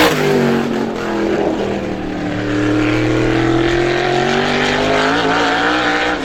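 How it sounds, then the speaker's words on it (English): A super late model race car, number 25, laps Star Speedway during time trials, its loud engine roaring close by with rising and shifting revs, steady throughout with no voices. "Car number 25 on the Speedway, Dan Bowes."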